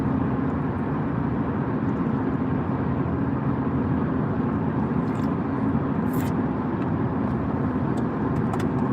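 Steady broadband road rumble from a car driving on roads outside Maryland, heading toward Washington DC, continuous and fairly loud throughout with no talk.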